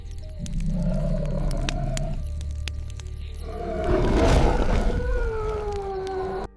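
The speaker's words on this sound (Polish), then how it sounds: "Głęboki, dudniący ryk. Ale to nie jest ryk niedźwiedzia, ani żadnego innego zwierzęcia, jakie znam." A deep, rumbling monster roar from a forest, not a bear or any known animal, swelling in long low drawn-out bellows with a louder surge near the middle, heard alone without talk.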